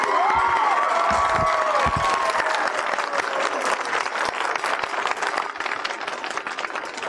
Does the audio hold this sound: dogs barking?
no